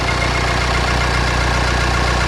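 A car engine idles steadily after a battery jump start, a continuous low rumble close by with a faint regular knock, running alone without talk.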